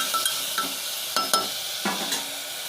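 Tomato being stirred into fried onion in a pan for a potato gravy, a steady close sizzle broken by several sharp scraping strokes of the spoon against the pan, with no talking.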